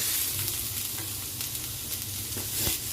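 Ginger-garlic paste sizzles steadily on a hot bhakri griddle, a close, continuous crackling hiss with occasional sharper pops.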